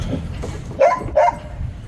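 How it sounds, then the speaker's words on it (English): A dog barks twice in quick succession, excited yips standing out over faint background noise, at moderate distance indoors or in a garage. "The dog is going nuts."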